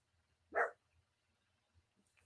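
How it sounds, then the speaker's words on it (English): A single short dog bark, one brief sharp burst heard faintly at a distance in an otherwise quiet room. "Is my dog going to make your dogs bark?"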